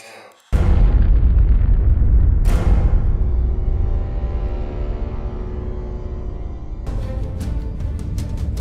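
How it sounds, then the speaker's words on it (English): A loud, deep explosion booms downtown in a film test scene, followed by a second blast and a long rumbling decay, then crackling debris and scattered sharp pops near the end. "All we know is it looks like there's been an explosion downtown."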